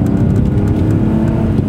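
Car with rear-wheel drive accelerating hard uphill in second gear, a loud close engine roar with a rough, throbbing texture that sustains for under two seconds.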